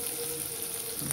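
Chopped onions sizzle as they drop into hot oil in which Rui fish was just fried, a brief steady hiss of frying.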